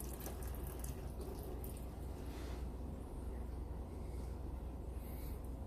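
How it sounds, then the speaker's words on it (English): Water draining out through a PVC siphon overflow on a DIY drip system, a continuous gentle trickling flow at close range, steady throughout with no talk. "once we put it back in, it'll automatically start the siphon again. So it's flowing out"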